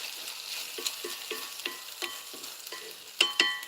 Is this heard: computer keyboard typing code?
no